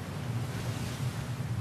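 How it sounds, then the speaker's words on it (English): Wind and crashing sea waves in the pirate video game Sea of Thieves on a very windy day, making a steady, full roar of surf and gusts with no speech. "It's a very windy day."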